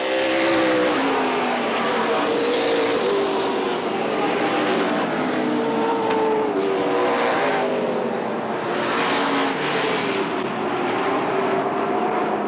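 A pack of race cars at Tri City Motor Speedway in September 2003 roars under green, their engines rising and falling in overlapping pitch sweeps, loud and continuous, with a faint voice underneath.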